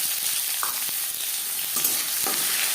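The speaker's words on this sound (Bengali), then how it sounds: "10-15 সেকেন্ড 5 ফোড়ন ভেজে নেওয়ার পর দিয়ে দেবো পেঁয়াজ কুচি।" Panch phoron spices fry in hot refined oil with a steady, close, dense crackling sizzle, broken by a few faint scrapes of a stirring spoon.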